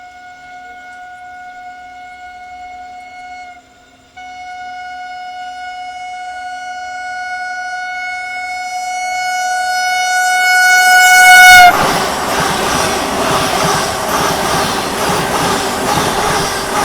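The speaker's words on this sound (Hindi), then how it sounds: "दोस्तों हॉन्किंग के साथ आ रही है वाराणसी वंदे भारत" A Vande Bharat Express running from Khajuraho to Varanasi Junction sounds a long, sustained horn for about eleven seconds, then thunders past close by with a loud, steady roar of wheels and coaches.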